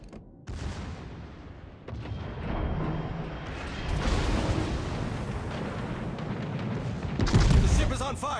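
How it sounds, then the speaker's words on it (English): Naval artillery from the French battleship Richelieu in World of Warships booms in heavy, rumbling salvos that swell and layer over sustained battle noise, with a loud burst near the end. "All stations, concentrate fire on the target."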